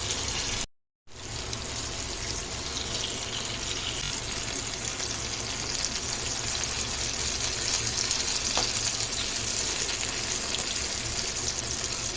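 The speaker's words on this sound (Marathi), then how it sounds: "आपण बोंबील फ्राय करून घेऊया" Bombay duck (bombil) fish fry on a griddle pan in two and a half ladles of oil, giving a loud, steady hiss of sizzling that runs throughout after a brief cut-out near the start.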